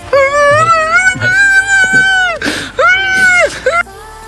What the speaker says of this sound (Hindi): उसके बाद वो बहुत ही बुरी तरह रोने लग जाती है, एकदम इस तरह।